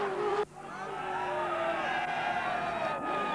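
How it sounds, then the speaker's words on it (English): At the Bathurst 1000 motor race, a trackside crowd sends up a broad, sustained roar of cheering as a race leader passes. A loud engine note cuts off abruptly early on, and the crowd noise continues steadily beneath it. "listen for the crowd cheering as they see Peter Brock in the lead"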